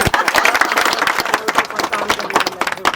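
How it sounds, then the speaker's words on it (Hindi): Guests at a Hindu wedding ceremony break into lively, dense applause, with many hands clapping in quick, irregular bursts at close range for the whole stretch. "सब लोग ताली बजाइए एक बार।"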